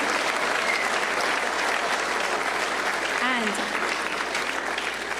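A roomful of people applaud in a sustained, dense wash of clapping that holds steady and loud throughout, with a brief voice-like sound rising faintly in the middle.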